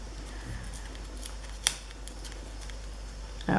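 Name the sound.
scissors cutting scrapbook paper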